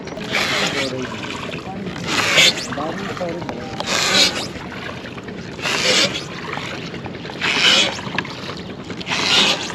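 An elderly boatman rows a small wooden boat along a branch of the Jamuna river, oar strokes swishing and splashing in a regular rhythm about every two seconds, with wind noise and people talking over it.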